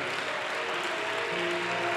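A church congregation applauding during a sermon, a steady wash of many hands clapping together with faint organ or keyboard tones sustained underneath.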